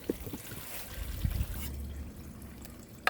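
Clear aquarium water is drawn from the middle of a fish tank into a container during external filter cleaning, giving a faint, quiet trickle with small splashes and a sharper drip near the end.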